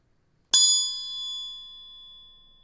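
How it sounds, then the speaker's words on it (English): A single metal triangle is struck once, ringing out bright and clear with a sharp attack and a long shimmering decay, alone in an otherwise silent room. "You know why I play the triangle, right?"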